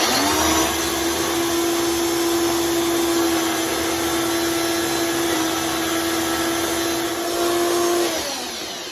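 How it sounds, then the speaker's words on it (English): A blender runs steadily, mixing a creamy plantain sauce with a little salt, a loud continuous motor whine holding an even pitch for about eight seconds before spinning down near the end. "You start mixing."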